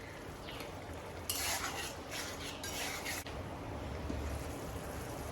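Spice masala being stirred and fried in a pan with a splash of hot water, a low continuous sizzle under scraping spatula strokes and metallic clinks, with a brighter hissing burst in the middle.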